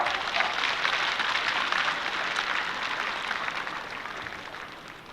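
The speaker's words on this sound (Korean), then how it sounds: "힘찬 박수로 맞이해 주시면 감사하겠습니다." A hall full of people applauds to welcome the board chairman at a 1997 university freshman entrance ceremony, a dense, steady roar of clapping that slowly tapers off, with no talking.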